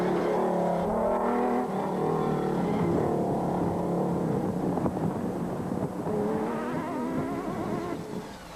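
A race-leading Nissan rally car's engine drones steadily throughout a lap of the 2003 Nissan Dealers 400, with loud sustained engine tone and wind rumble, no voices.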